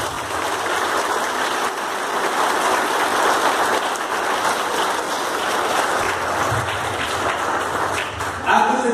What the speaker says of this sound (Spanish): Por eso vamos a darles un fuerte aplauso.